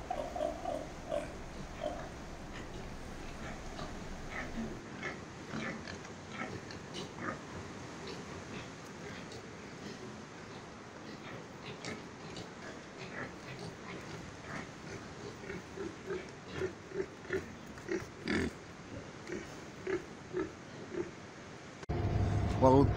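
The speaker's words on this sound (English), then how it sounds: "One thing that's not in short supply on the island is pigs." Pigs raised for feasts on the Pacific island of Tuvalu grunt and oink in scattered bursts, fairly close, while people talk intermittently nearby.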